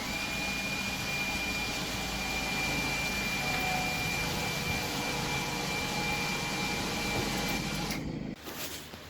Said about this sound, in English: So now I can go ahead and cut the whole hole out and make it a little bit cleaner.